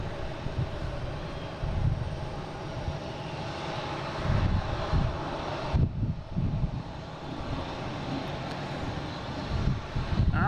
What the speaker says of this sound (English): And we have a Delta coming in from LaGuardia, an E175